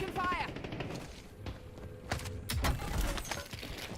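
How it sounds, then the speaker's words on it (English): Gunfire in the video game Black Ops 6, with tracer rounds and sniper shots heard as scattered, fairly faint cracks and thumps over a busy background. "Oh, that looks like tracer bullets and a sniper."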